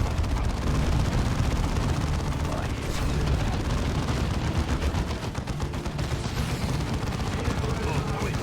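Bombing strike explosions in the Dawn of War II video game, a dense, loud, continuous barrage of booming blasts and gunfire rumbling throughout, with voices talking over it.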